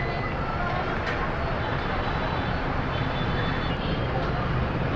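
Dense road traffic noise in a jam on the way to Gazipur: a constant loud rumble of engines from buses and trucks, with no distinct horns or breaks in the wash.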